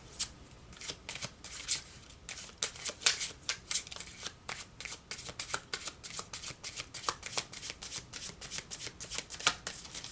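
Tarot cards from a Wizard's Tarot deck shuffled steadily for about ten seconds, a continuous run of crisp riffling slaps close by with no talk.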